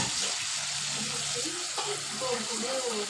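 Bitter gourd fries with garlic in a pan, a steady close sizzle with light stirring, while a person talks briefly over it.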